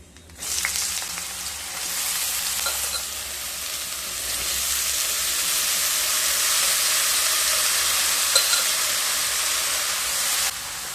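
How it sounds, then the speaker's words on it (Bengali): Cut bottle gourd hits hot oil seasoned with fenugreek and black mustard seeds for lau shukto, bursting into a loud, steady close-up sizzle that swells slightly and continues unbroken for about ten seconds before cutting off. "তেল থেকে যখন একটা সুন্দর স্মেল আসতে শুরু করবে, সেই সময় কেটে রাখা লাউগুলো দিয়ে দেব।"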